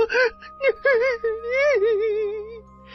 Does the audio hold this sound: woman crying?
yes